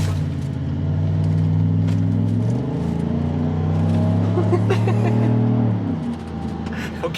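A Chevrolet Silverado with a DFM delete and tune revs loudly nearby, its V8 note climbing and falling in two long pulls, with faint voices underneath.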